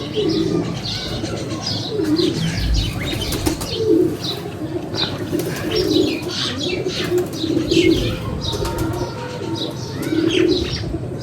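A young female pigeon of the 5-number breed, among other pigeons, flaps its wings in repeated bursts while soft coos and small chirps carry on throughout, fairly close and steady, with no talking.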